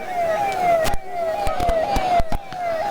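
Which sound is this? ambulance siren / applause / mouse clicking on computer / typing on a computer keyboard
ambulance siren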